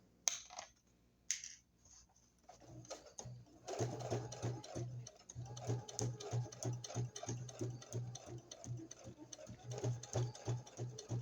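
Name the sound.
sewing machine stitching a junk journal cover at medium speed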